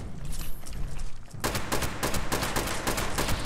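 Rapid gunfire in Fallout 76, first quiet and muffled, then a loud, dense stream of shots in quick succession that keeps going to the end, with no voices.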